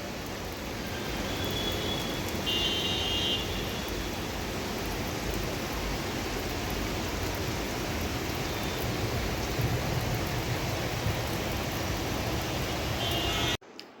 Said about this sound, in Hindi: बाहर बारिश कंटिन्यूस है लगातार कल से।